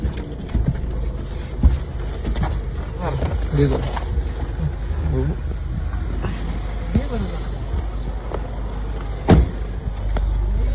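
A car moves along a road with a steady engine and road rumble, while people talk over it and a brief thump sounds near the end.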